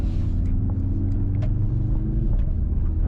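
A 2025 Mercedes-AMG C63 S E hybrid with a 2.0-liter engine and electric turbocharger accelerates, its steady low rumble heard from inside the cabin, with faint ticks and road noise over it.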